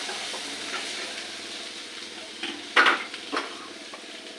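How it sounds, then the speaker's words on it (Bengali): Water is poured into a pan of frying Bengali curry, setting off a sudden loud hiss and sizzle that bursts up midway and then settles back into a steady low frying crackle, with a few soft stirring knocks. "এবারে জল দিচ্ছি"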